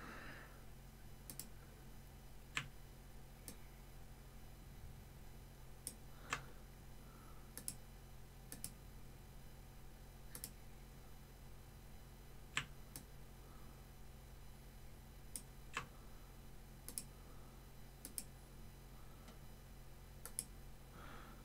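Scattered, faint mouse clicks sound at irregular intervals, some sharp single clicks and a few quick doubles, over a quiet steady background hum with no talking.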